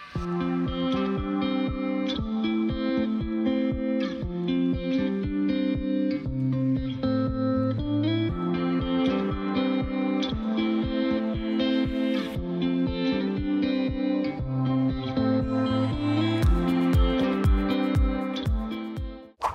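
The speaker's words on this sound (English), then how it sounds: "It sounds like there's some music coming from some shops and stalls down below" Music drifts up from shops and street stalls below a Saigon hotel room, a steady, continuous tonal mix with a thumping beat and reverberant, slightly distorted sound, filling the whole stretch without talk.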